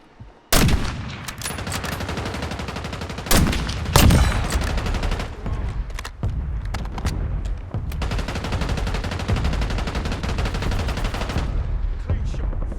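Rapid automatic gunfire in the video game Warzone, loud bursts and sustained firing with sharp louder shots, dense and continuous throughout, with faint voice callouts mixed in.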